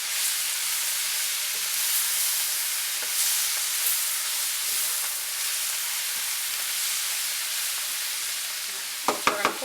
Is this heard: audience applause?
no